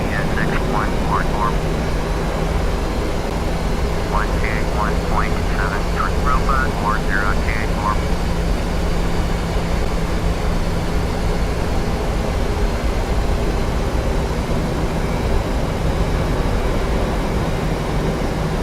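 A PMDG Boeing 737 jet in the FSX flight simulator rumbles with a steady engine roar on takeoff. Faint chirpy tones sound early on, and someone talks over the continuous noise.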